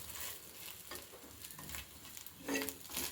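An egg roll is cooked late at night in a home kitchen, with faint, steady frying sizzle and soft intermittent stirring scrapes.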